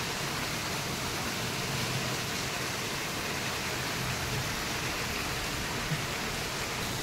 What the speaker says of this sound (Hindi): झड़ी वर्षा।